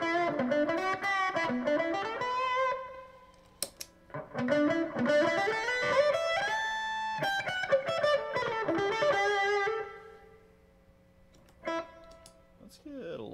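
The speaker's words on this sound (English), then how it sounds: "What's it sound like without the boost on?" Clean electric guitar with the boost pedal off: phrases ring out with sustained notes and quick runs, pausing briefly before a final plucked note or two.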